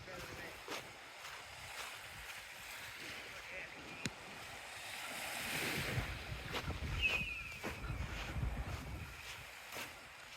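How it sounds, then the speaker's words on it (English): Waves break on a seashore with a steady wash of surf, swelling louder midway, while gusts of wind brush the microphone and a faint distant voice drifts in the background. "so you can hear the waves"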